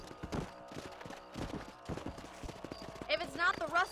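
Horse hooves clip-clop at a steady trot in the Red Dead Redemption 1 game, close and moderately loud, with a brief whinny-like sound near the end; someone talks over much of it.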